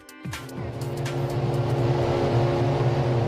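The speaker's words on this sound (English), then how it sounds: "The sound of 22 cars revving up in the sunshine" Formula 1 cars at the 2008 Australian Grand Prix in Melbourne rev loudly and steadily, a dense, high-pitched engine drone from a field of cars that builds slightly over a few seconds, with no voices.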